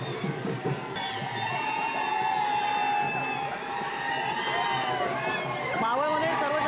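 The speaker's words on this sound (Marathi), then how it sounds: "त्यामुळे अजित पवार यांचे फोटो घेऊन इथे कार्यकर्ते जल्लोष करताना दिसत आहेत" Party workers celebrate a Zilla Parishad election win with loud, sustained cheering and shouting from a crowd, voices rising and overlapping continuously.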